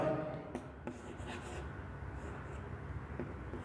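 Marker or chalk writing the unit weber on a board during a physics lesson, soft scratchy strokes and taps spread over a few seconds against a steady low room hum.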